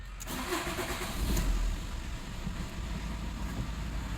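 A 2009 Fiat Fiorino with about 190,000 km and faulty injectors cranks and starts, then idles roughly with an uneven, shaking engine note, close and steady with no talk.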